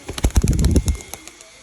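Pigeons on a rooftop loft perch flutter close by in a quick flurry of wingbeats and soft calls that lasts about a second before it fades to quiet.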